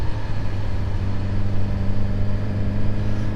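A Suzuki GSX-S1000GT motorcycle rides through the Peak District, its engine a steady, even drone mixed with constant wind rumble and no break in the sound.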